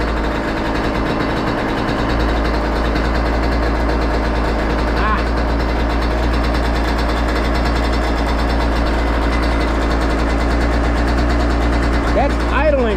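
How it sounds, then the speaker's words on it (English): A Yamaha YZ125 two-stroke dirt bike engine idles steadily and loudly nearby, a continuous buzzing drone with no pauses, and a voice is faintly heard over it. "That's idling for the two-stroke."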